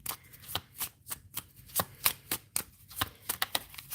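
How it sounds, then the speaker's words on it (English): Rapid riffles of a deck of playing cards being shuffled during a livestream, a string of sharp papery bursts in quick uneven rhythm, close and fairly loud with no talking. "As I'm shuffling."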